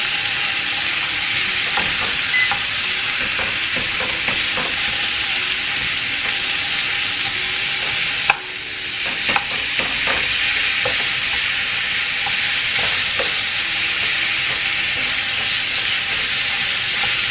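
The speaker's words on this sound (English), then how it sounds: "Now that my onion is tender, I'm going to go ahead and add my ground beef." Ground beef crumbled into tender onion in a pan for stuffed bell peppers, sizzling and frying steadily with a bright hiss, broken by scattered scraping stirs and a brief clatter near the middle; no talk.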